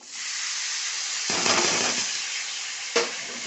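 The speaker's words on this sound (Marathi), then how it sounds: "आता मी त्याच्यात आपल्या ह्या घुगऱ्या टाकते" Sprouted pulses tipped into a garlic tempering in a pan, a steady hiss of cooking jumping into a louder crackling burst as they land, then a short sharp clatter of stirring near the end.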